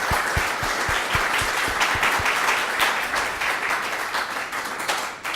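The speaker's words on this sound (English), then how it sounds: "Applause first, or?" Conference audience at DORS/CLUC 2014 applauds after a talk on the Osmocom open-source mobile communications projects: a sustained wash of many hands clapping, some distinct claps near the front, fading slightly at the end.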